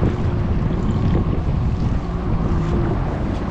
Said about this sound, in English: I thought the wind would be a lot worse